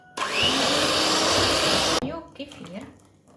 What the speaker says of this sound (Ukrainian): І тепер все буду збивати міксером до посвітління.